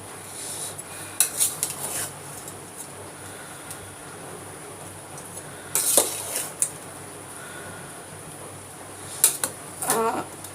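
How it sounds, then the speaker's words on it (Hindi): Marinade being stirred with cornflour in a bowl, giving scattered spoon clinks and scraping against the dish, with a few sharper knocks near the middle and end over a quiet room. "अब इसको मिक्स कर लेंगे अच्छे से।"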